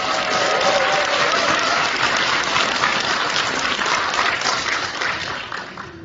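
Steady, dense applause from an indoor audience honoring lawmakers at a political rally, loud and sustained for several seconds before tapering off, with no talk over it.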